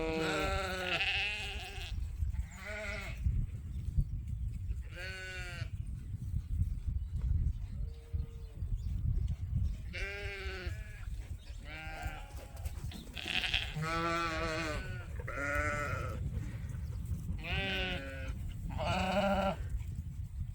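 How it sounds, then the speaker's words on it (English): Ewe lambs and sheep bleat repeatedly across a farm pasture, calls from several animals coming near and far at irregular intervals over a steady outdoor background. "most of the sheep are over here"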